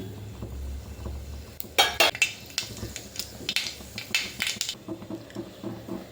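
Mustard seeds crackle in hot oil in a pan, with a run of sharp, close pops over a low steady hum.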